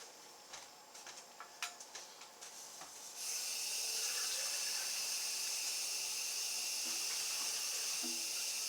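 A kitchen tap turns on partway through and runs steadily, a loud constant rush of water following a few quiet clicks and handling sounds, with no voices.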